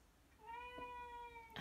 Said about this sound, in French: J'ai mon chat qui est pas d'accord apparemment.